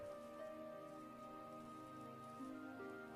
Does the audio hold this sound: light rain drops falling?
yes